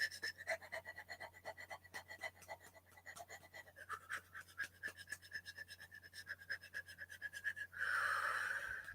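Rapid, rhythmic panting during a breathing exercise, a long run of quick close breaths ending in a louder, rougher exhale, with no talk.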